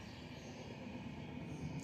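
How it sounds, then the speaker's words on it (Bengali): A fast train rumbles past at a distance, a faint and steady low roar lasting the whole moment. "দেখেছো ট্রেনটা কি জোরে যাচ্ছে?"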